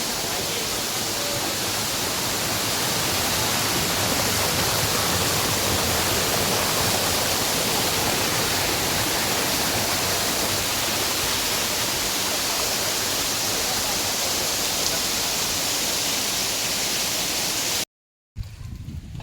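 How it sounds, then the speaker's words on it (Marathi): A waterfall beside the road to the Masai plateau pours in a dense, unbroken roar, loud and close, steady throughout, cutting out for a moment near the end before the rush returns, with no voices. "मसाई पठाराकडे जात असताना हा पाण्याचा धबधबा."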